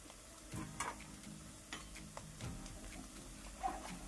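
Onion sizzling gently in a pan for Konkani-style besan pithi, with faint frying crackle and a few light stirring taps and utensil clicks, quiet and close.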